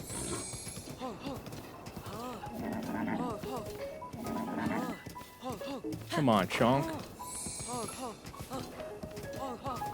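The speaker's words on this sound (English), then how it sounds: "Chonk is a very wild horse." A horse gallops in the video game Breath of the Wild, its steady hoofbeats running beneath nearly continuous talk, with a brief, louder burst like a whinny partway through.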